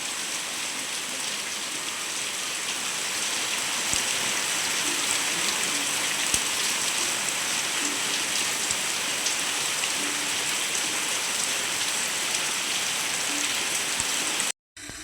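Sudden heavy rain pours down outdoors as a dense, even, unbroken hiss of drops striking surfaces, with no voices.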